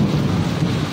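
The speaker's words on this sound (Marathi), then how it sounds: "विजेच्या कडकडाचा आवाज आहे" Rolling thunder crackles through a heavy rainstorm in Satara, a dense low rumble holding steady for the whole second, with rain hiss beneath and no voices.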